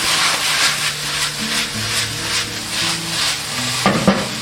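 Pickled mustard greens with red chili and garlic sprouts stir-fried over maximum heat in a wok: steady, close sizzling, repeated spatula scraping strokes and a brief clatter near the end.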